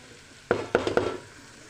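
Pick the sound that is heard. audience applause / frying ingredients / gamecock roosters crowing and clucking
frying ingredients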